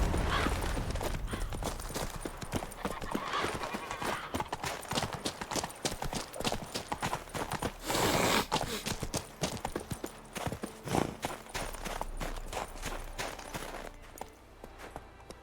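A horse's hooves clip-clop in a steady walking rhythm in The Witcher 3, close and clear for most of the stretch, then fading near the end.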